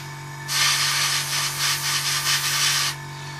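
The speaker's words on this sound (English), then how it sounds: "airbrush right over those" Airbrush spraying paint over parts of a 1/48 Kinetic E-2C Hawkeye model kit, a steady close hiss of about two and a half seconds that swells slightly in pulses, then cuts off.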